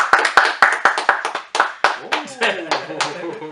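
A small crowd claps and cheers at the start of a casual basement-style show, sharp irregular hand claps bunched together at first, then thinning out as voices and chatter take over near the end.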